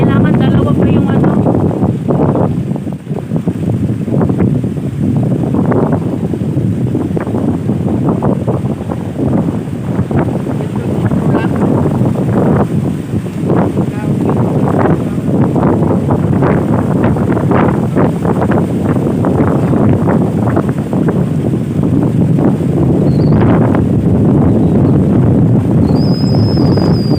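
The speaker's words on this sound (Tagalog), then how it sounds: "Sa sobrang lakas ng hangin, kailangan dalawa pa yung ano." Very strong wind roars continuously and loudly across the microphone outdoors, a steady buffeting rush with faint voices partly buried beneath it.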